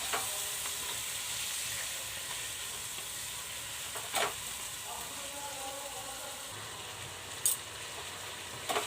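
Chicken kosha sautéing in hot oil in a pan, a steady close sizzle running throughout with a few brief clinks of stirring.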